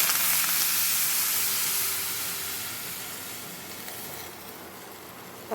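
Curry leaves and chili powder sizzle in hot oil for a fish curry, a loud bright hiss that slowly fades over several seconds, ending with a brief new crackle.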